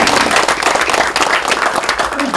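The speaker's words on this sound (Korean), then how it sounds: "박수 한번 보내주십시오." Loud, dense applause from a large crowd at a political party event, steady clapping filling the whole stretch with no break.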